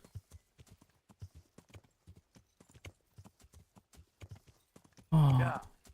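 In the medieval video game Kingdom Come Deliverance, a horse's hooves clip-clop in a steady, quiet walking rhythm, followed by a sudden loud burst near the end as someone speaks.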